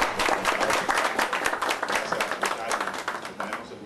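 An audience applauds a visiting mayor at a district event, steady broadband clapping filling the whole stretch at moderate loudness with a dense, continuous texture.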